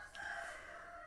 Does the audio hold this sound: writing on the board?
no